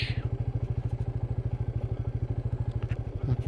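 A Royal Enfield Meteor 350 single-cylinder motorcycle rides slowly off-road, its engine thumping in a steady, even low chug close by, with occasional light rattles over rough ground.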